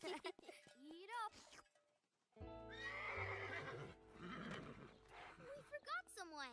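An animated horse whinnies with rising and falling neighs while eating hay in a children's cartoon, with voices talking around the calls and hoof clip-clops near the end.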